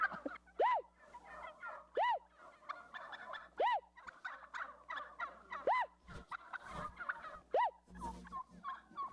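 Turkeys gobble in Kennewick, repeated loud rolling gobbles about once a second from several birds nearby, with chattering clucks between the calls.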